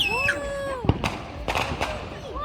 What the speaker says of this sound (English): Wow, Adam, look at the fireworks right there.